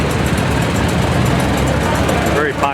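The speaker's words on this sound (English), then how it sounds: "It's a little International 424." A little International 424 utility tractor engine runs at a steady low rumble throughout, heard at a tractor show gathering with crowd noise around it.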